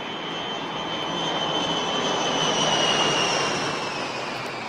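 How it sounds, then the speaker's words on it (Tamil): Steady loud roar of jet engines as an IL-78 tanker and two Mirage 2000 fighters fly overhead in formation at an air show in Chennai, holding a continuous wash of engine noise with a gentle swell and no voices. "வானிலே IL-78 மற்றும் 2 மிராஜ் 2000 கொண்ட நட்ராஜ் ஃபார்மேஷன் உங்களுக்காக"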